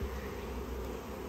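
Dense, steady buzzing of honey bees close by at an open hive, a continuous low drone with no talking.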